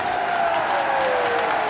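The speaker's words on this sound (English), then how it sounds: "A resounding cheer echoes throughout the school buildings from distant classrooms." A resounding cheer rises from a distant crowd across a school campus in the visual novel IxSHE Tell, a steady, dense roar of many voices and clapping held at an even level throughout.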